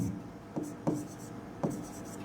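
Marker or chalk strokes on a board during an English grammar lesson, a few short scratchy strokes spaced apart over quiet room tone.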